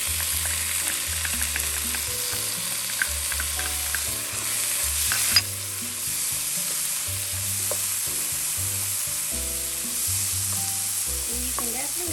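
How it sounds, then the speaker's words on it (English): Chili tipped into onion and garlic frying in a hot pan, a steady close sizzle with scraping stirs and occasional clinks, running loud and even throughout. "We're going to add in our chili."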